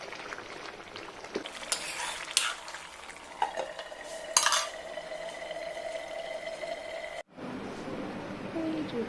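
Fish head curry cooking in a pot on medium heat, with soft bubbling and sizzle, metal spoon scrapes and clinks while it is stirred and the head is broken up, and a brief pause near the end.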